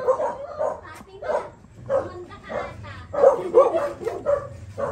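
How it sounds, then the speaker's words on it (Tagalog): Several dogs bark and yip repeatedly in short, uneven bursts close by, with occasional whimpers, while people talk among them. "Ang dami niyo palang aso."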